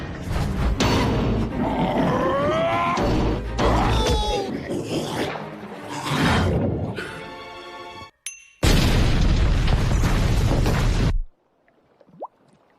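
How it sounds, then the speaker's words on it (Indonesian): Bombs exploding around a submarine in an animated film, loud booming bursts and crashes mixed with grunting cartoon voices and music, ending in a sudden cutoff to near silence. "membuat bom di sekitar kapal selam pun meledak"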